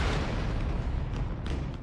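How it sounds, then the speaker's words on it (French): An explosion rumbles as a loud, sustained low boom with dense roaring noise, heavy throughout and fading slightly with small crackling bursts near the end. "Attention! Explosion!"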